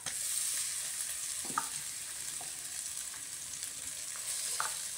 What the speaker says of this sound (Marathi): मसाला भाजून, म्हणजे आपण जी आलं लसूण कढीपत्ता ते बारीक केल्याला